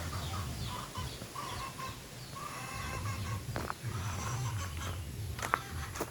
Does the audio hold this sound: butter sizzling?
no